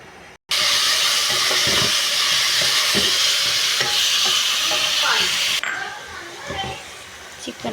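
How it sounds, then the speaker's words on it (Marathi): Marinated chicken hitting hot oil with garam masala and bay leaf in a hot kadai, a loud steady sizzle that bursts in after a brief pause and fades somewhat toward the end, with stirring clatter throughout. "मॅरिनेट चिकन आपण ॲड करून घेऊया।"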